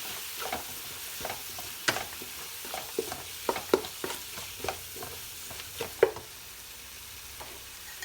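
Whole spices such as black cardamom and cinnamon are stirred in a pot for a chicken and chickpea curry, with scattered spoon scrapes and clinks over a faint, steady sizzle and no talking.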